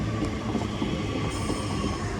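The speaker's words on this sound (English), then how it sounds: "here's 323-208 working the West Midlands Railway service to" A West Midlands Railway Class 323 electric multiple unit, number 323-208, runs past on the Cross City line, giving a steady rumble of wheels and traction noise, close and loud, with faint squeals and no speech.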